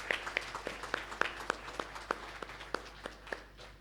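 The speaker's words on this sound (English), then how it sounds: "I just want to invite a round of applause to the Thai organization team" An audience at an education lecture claps in a sparse, thin round, with single distinct hand claps spaced fairly evenly at moderate distance rather than a dense ovation, over a faint low hum.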